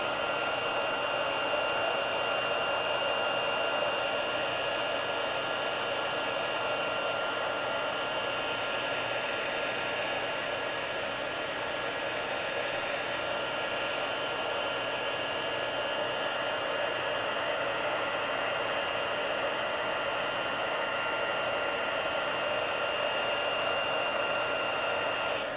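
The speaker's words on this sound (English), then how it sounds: "And then I got a heat gun." A heat gun used with embossing powder blows with a steady, loud airy hiss that stays unbroken from start to finish.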